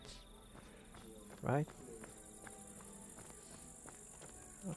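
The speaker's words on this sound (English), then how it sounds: "we can see 1, 2, 3, 4, 5 sounds that we can hear. They are insects," Procedurally generated insect sounds for a daytime game scene: a faint, steady cricket-like chirring layered with several small insect calls. A voice speaks briefly over them.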